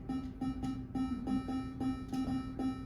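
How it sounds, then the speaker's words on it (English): Game Boy chiptune pattern built in LSDJ, a bright square-wave tone repeating in a fast, even rhythmic loop of short pulses, quiet and alone. "And this is a very classic video gamey sound, because it was very efficient to make."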